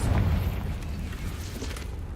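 A spell explosion from a Harry Potter-style video game, heard as a loud low boom with a rumbling tail lasting a couple of seconds, the blast heaviest at the start.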